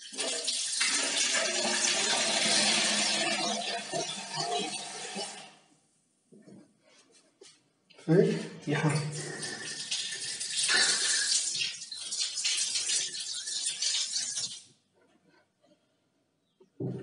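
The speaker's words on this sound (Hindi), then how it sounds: "ऑल अराउंड अभी पानी का सप्लाई जो है आ गया।" Water runs from a newly supplied tap in a bathroom, a steady close hiss lasting about five seconds, then a pause and a second longer stretch of running water.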